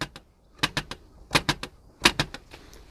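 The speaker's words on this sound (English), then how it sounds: "rattles, makes the bike sound rattly, and it's not. It's just the damn L plate." A learner L plate mounted beneath the number plate of a Lexmoto LXS 125cc motorbike rattling over a bump, a few quick clusters of sharp, close plastic clacks with brief quiet gaps between them.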